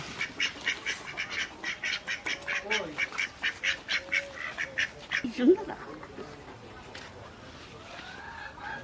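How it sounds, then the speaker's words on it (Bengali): Nearby ducks quack again and again in a quick rhythmic string of loud calls, and a person speaks over them. The quacking fades into quieter background noise toward the end. "দেখি তো কি সুন্দর হাঁস"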